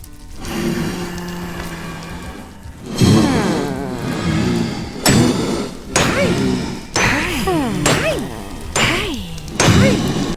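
A series of loud thwacking, crashing hits, each followed by a warbling, pitch-bending tone, coming in quick uneven bursts: a Minecraft bed sound modified by a resource pack.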